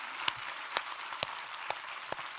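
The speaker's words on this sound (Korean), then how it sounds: "우리 하나님께 감사와 영광의 박수를 드리겠습니다." A few scattered, isolated claps from a congregation at a winter revival meeting in a church, spaced out over a steady low hiss.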